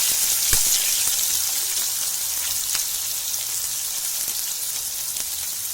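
Chopped onion frying in hot oil with cumin seeds, a continuous bright sizzle with occasional small pops, close and steady throughout without talking.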